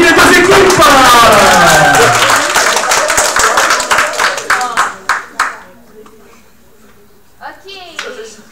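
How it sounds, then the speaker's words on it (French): An audience at an improv match claps loudly at first with a voice calling out over it, then the clapping thins to scattered claps and fades, with a brief burst of talk near the end. "on applaudit les deux équipes"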